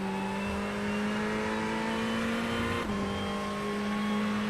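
A Ferrari 488 GT3 Evo race car in the iRacing sim at Interlagos accelerating, a loud, steady engine drone whose pitch climbs, then drops sharply at a gear change and climbs again, with no voices.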